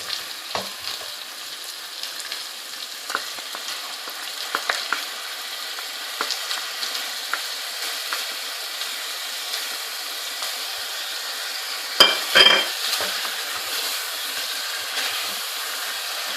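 Chicken sizzles and fries in a pan for dhaba-style murgh cholay, with a low steady hiss broken by scraping stirs and a louder burst of sizzling near the end as yogurt goes in; no talking.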